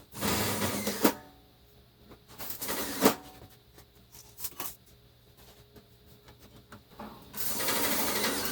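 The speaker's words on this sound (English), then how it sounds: "I'm going to drive 3 self-tapping screws and then repeat" A power driver sends self-tapping screws into aluminum for a homebrewed generator load bank: a few short, sharp whirring bursts of drilling separated by quiet pauses, then a steadier louder mechanical noise at the end, close by with no talking.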